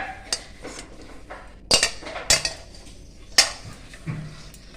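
Milk mixed with sour curd in a bowl, with a spoon stirring and knocking against the sides in irregular clinks and scrapes, several sharper taps among softer swishing, close up and without talk.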